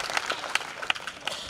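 Audience applause for teachers at an education foundation event in Maharashtra: a short burst of scattered clapping with a few sharper individual claps, moderately loud and without talk.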